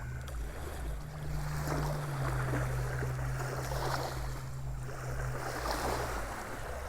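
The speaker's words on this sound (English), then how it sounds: "as the waves, it's too much to say crash on the shore because they're really tiny" Tiny waves lapping on a shore at sunrise, a steady soft wash of water with gentle swells and faint wind, heard alone without voices.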